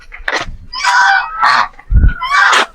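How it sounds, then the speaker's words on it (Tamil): A goose on a farm honks loudly several times in close succession. The harsh, nasal calls come from nearby, with a brief low thud between them and no voices. "இது பேர் ஊசி வாத்துன்னு சொல்லுவாங்க."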